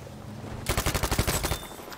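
Rapid automatic gunfire in Battlefield 5, a burst of about a dozen sharp, evenly spaced shots starting after a quiet stretch, loud and close, with no talk over it.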